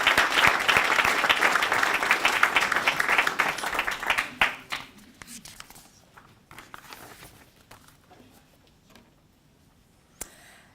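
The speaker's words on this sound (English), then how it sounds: "can I please ask you to put your hands together and congratulate Gurpreet?" An audience at a fellowship award presentation applauds an awardee, dense clapping for about four seconds that thins into scattered claps and fades to near silence, with one late clap.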